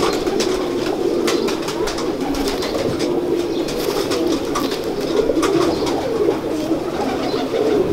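Ferozpuri pigeons coo in a steady, continuous low murmur, close and fairly loud, with occasional wing flaps and faint background noise and no voices.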